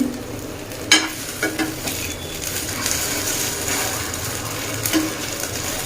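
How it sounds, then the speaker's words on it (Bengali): Patishapta pitha, a Bengali rolled pancake, frying in a wok: a steady soft sizzle runs throughout, with a few scraping stirs and light clanks of a spatula against the pan, close and alone. "সবগুলো এভাবে ভেজে নেব"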